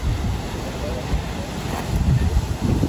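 Strong wind buffeting the microphone on a mountain ridge in Sri Lanka's Knuckles range, a loud low rumbling roar that swells and gusts throughout.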